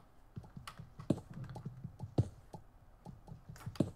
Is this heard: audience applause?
no